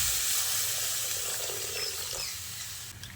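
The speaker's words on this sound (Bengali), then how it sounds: "এবার আমি এর মধ্যে পরিমাণ মতো জল দিয়ে দিচ্ছি" Water poured into a pot of potatoes already mixed with spices gives a steady, close sizzle and hiss that eases slightly toward the end, with no voices.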